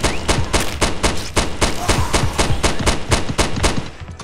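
Rapid repeated shotgun blasts in the video game Primal Fears, around fifteen sharp, loud reports in quick succession with only brief gaps between them.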